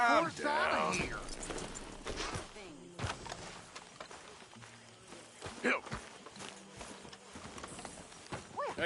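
Hooves of a horse clip-clop at a walk in the Red Dead Redemption 2 video game, irregular hoof strikes and a brief whinny under spoken character dialogue, with quiet gaps between.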